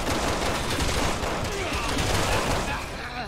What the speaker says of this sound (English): Now we shoot them!